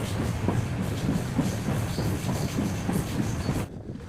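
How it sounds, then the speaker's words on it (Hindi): A train runs along a railway line between Suratgarh and Gajsinghpur, heard from on board as a steady rumbling roar with rhythmic wheel clatter that drops away near the end. "दोस्तों इस वक्त हमारी ट्रेन बढ़ रही है गजसिंहपुर रेलवे स्टेशन की तरफ"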